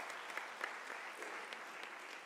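Graduates and guests at a university autumn graduation ceremony in South Africa applaud, soft distant clapping that holds steady for a couple of seconds.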